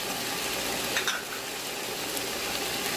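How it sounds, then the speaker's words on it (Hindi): Garlic and ginger fry in a pan for chicken pulao, giving a steady, close hiss and sizzle with a few faint stirring clicks and no one talking. "लहसुन अदरक को हम 1 से 2 मिनट तक फ्राई कर लिया"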